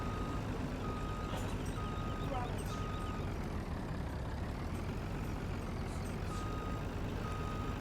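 A truck in a farming video game backs up to shift a trailer, its reversing beeper pulsing in steady, evenly spaced tones over a constant low engine drone and background noise.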